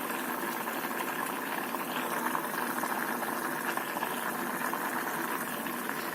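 Malabar spinach from a rooftop garden cooks in a pot, giving a dense, steady bubbling and sizzling hiss that runs loud and continuous throughout, with no talking.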